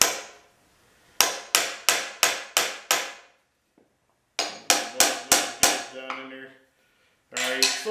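Sharp hammer blows on a steel nail set, driving nails below the surface of wood: a run of six evenly spaced cracks, a pause, another run of five strikes, then scraping clatter, close and loud with no talk.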